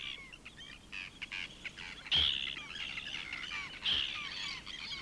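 Arctic terns, a downy chick and its defending parents, give sharp, harsh calls in repeated bursts, with two loud close shrieks standing out over a busy background of chatter and outdoor noise.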